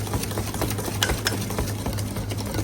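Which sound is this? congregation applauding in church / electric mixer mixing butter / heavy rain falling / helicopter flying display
electric mixer mixing butter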